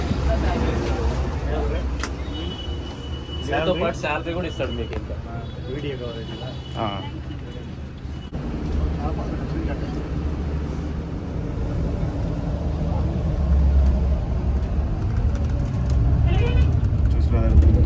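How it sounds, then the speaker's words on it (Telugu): Low rumbling drone inside a moving Volvo sleeper bus on the Hyderabad to Coimbatore route, steady engine and road noise with rattles and creaks, and a person talking over it for much of the time. "మనం ఇప్పుడు స్లీపర్ వాల్వో బస్సులో ఉన్నాము."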